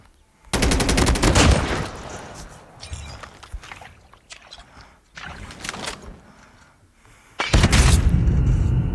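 Sniper shots in the mobile shooter Call of Duty Mobile: a loud burst of gunfire, then quieter game noise, then another sharp, loud shot near the end, with no talk.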